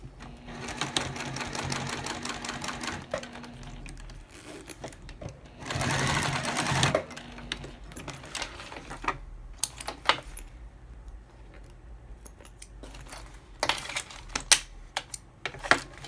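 A sewing machine top stitches a zipper pocket lining for a small wallet, running in bursts of rapid mechanical stitching with pauses, a longer louder run midway, and small clicks and handling noises between, close and clear.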